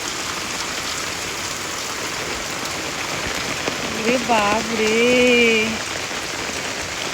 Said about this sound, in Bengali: এত বৃষ্টি কি ভালো বন্ধুরা বলো